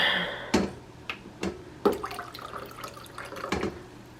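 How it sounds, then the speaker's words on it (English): Cooler water is poured in short splashing, trickling bursts for mixing bread dough, with a few light clinks of a container and no voices. "bring over some cooler water"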